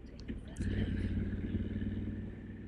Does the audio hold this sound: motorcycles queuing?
yes